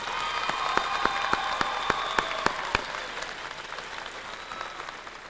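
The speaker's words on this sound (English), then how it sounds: "Please join me in giving them a round of applause." Graduation ceremony audience applauds in a large hall, a broad wash of clapping with several sharp distinct claps standing out early on, then slowly thinning.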